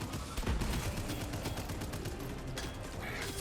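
Repeated gunfire from a sniper-like gun in the brinepunk action roguelite Abyssus, steady loud shots over busy game noise with no talking.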